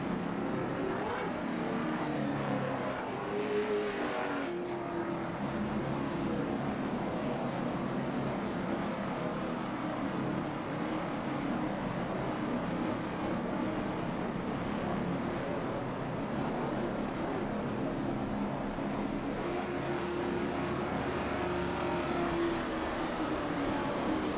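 Race cars at Hickory track drone and accelerate in a steady, loud engine roar that holds for the whole stretch, with rising pitch sweeps as cars pass.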